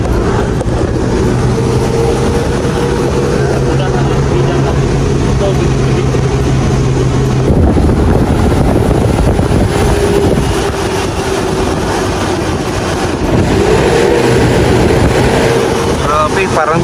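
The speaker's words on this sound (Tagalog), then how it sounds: "Parang chainsaw na yung makina." A loud, rough motor engine drones continuously up close, buzzing like a chainsaw, with wind buffeting the microphone throughout.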